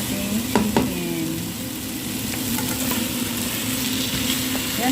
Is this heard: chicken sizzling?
yes